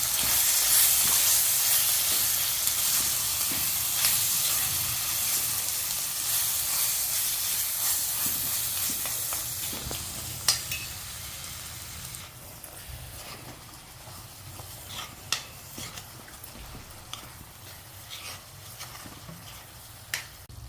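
Chicken varuval being sautéed in a hot pan, giving a steady sizzling hiss that is loud at first and eases off midway, with scattered sharp crackles and pops throughout and no talking.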